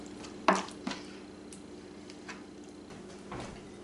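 A knife taps and slices through alligator meat on a cutting board, a few sharp close knocks followed by quieter scattered cuts in a calm room.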